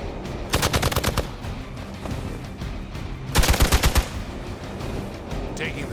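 Two quick bursts of rapid automatic gunfire, loud and close, ring out in the Marvel's Midnight Suns video game over a low background soundtrack.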